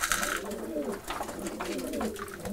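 Racing pigeons coo in a loft, several soft low throaty calls overlapping and repeating close by, with light rustling in between.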